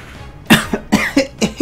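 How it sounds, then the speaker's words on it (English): A person coughs four or five times in quick, harsh bursts, close and loud. "Oh boy, the coughs are real."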